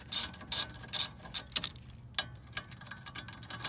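A hand ratchet is spun quickly to tighten a rear brake caliper bolt on a 2006 Lincoln Town Car, giving a run of rapid close clicking bursts that thin out into a few scattered clicks.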